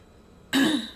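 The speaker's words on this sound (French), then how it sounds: "j'arrête pas de tousser" After near silence, a single short throaty cough or throat clearing bursts out close by and trails off.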